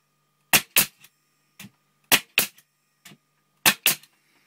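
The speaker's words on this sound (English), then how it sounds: "Place the safety on the work surface and fire the stapler." A Tacwise 14 Series G1450V pneumatic stapler, connected to an airline, fires staples into a piece of timber: sharp, close, loud snaps in three quick pairs, each pair followed by a faint softer tap, with silence between.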